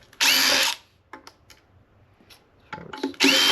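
A power drill whirs in two short loud bursts, unscrewing side screws while electronics are scrapped, with faint clicks and handling noise in between.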